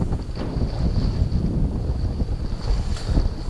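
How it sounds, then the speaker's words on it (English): Strong wind sweeps across Lake George during a one-hour GPS speed sailing attempt, a steady, close buffeting roar on the microphone with rushing water beneath and no voices. "Doesn't look that windy, but it's horrendous."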